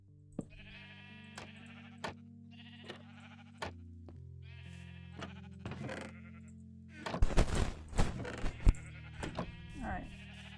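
Repeated sheep bleats in the video game Minecraft, several distinct wavering calls spaced apart, followed by a busier burst of clattering game sounds.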